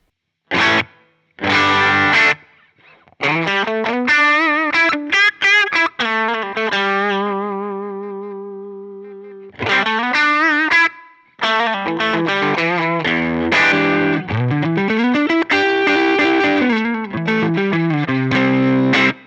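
Electric guitar chords and single notes through an HX Stomp ring out with a light shimmering, modulated effect, some notes sustained and decaying, others strummed in short bursts.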